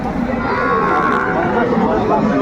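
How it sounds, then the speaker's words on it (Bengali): Young bull calves moo at a crowded cattle market, a dense loud mix of lowing and crowd chatter with people talking nearby throughout. "ষাঁড় বাচ্চা কোয়ালিটি ফুল।"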